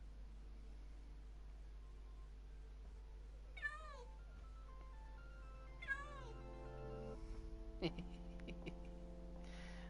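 Cats meowing indoors in a video game, three short rising-falling meows spaced about two seconds apart over a low steady hum and faint background tones.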